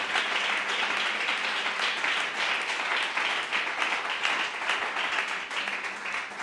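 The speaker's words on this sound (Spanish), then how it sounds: "Dale un aplauso a la gloria de Dios, aleluya." Congregation applause during an evangelical church sermon: a sustained round of clapping from many people, moderately loud and steady, with individual claps rippling through the dense wash and no talking over it.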